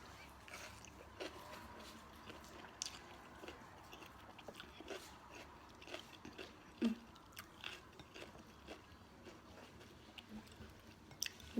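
Someone chews vegetables and cheese flowers at close range, soft crunchy and wet mouth sounds coming in an irregular rhythm over faint background noise.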